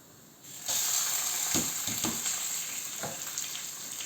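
Rice sautéing in a pan for pilaf, a steady bright sizzle that swells in and continues, with a few soft scraping stirs of a utensil against the pan.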